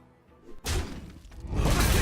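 A Fell Cannon card attack lands in the Hearthstone video game with a sudden loud whooshing impact after a quiet start. It is followed by a second swelling burst of crashing, rumbling effect noise, with no talking.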